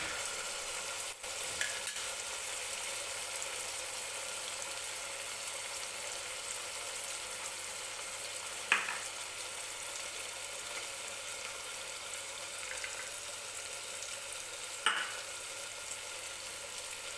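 Tomatoes roasting in oil in a pan for spiced rice, giving a steady, fairly quiet sizzle, with two brief louder scrapes of stirring near the middle and the end.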